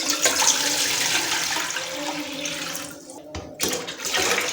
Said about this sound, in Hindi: दो जग हमने पानी डाल दिया है